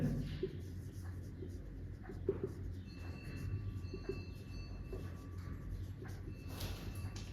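Faint scratchy strokes of writing on a board in a quiet classroom, short scrapes and taps over a low, steady room hum.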